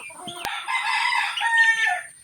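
A hen, one being offered for sale, clucks and calls in a steady run of close, fairly loud vocalizing with no talk over it, and a sharp knock lands near the start.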